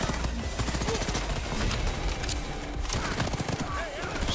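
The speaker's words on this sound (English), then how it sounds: "So many bullets are being shot out." A video game gun fires a dense, continuous stream of bullets, with loud rapid shots overlapping into a sustained roar that never pauses.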